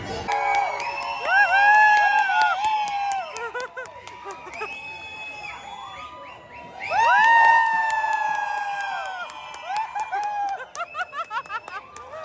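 At Disneyland Paris during the 30th anniversary Disney D-Light show, a crowd cheers and laughs while bright music swells and fades, with voices rising around the performance.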